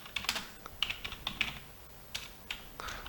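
Keys clatter on a computer keyboard as text is entered into a software text box, quick irregular bursts of close, crisp taps with brief pauses between.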